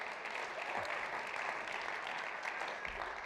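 A church congregation applauding and cheering, a continuous even wash of many hands clapping throughout, moderately distant and steady without distinct shouts standing out.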